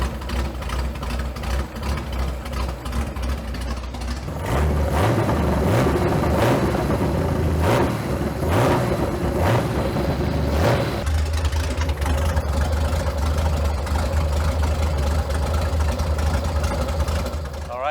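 A Kraftwerks Porsche 917 engine idles steadily while warming up, a continuous low rumble with a brief swell in revs partway through, close and fairly loud with no talk over it.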